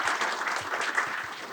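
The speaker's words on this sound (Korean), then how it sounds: "일단 박수 한번 부탁드립니다." Brief applause from the audience at a university architecture public lecture, dense close clapping with no voices over it.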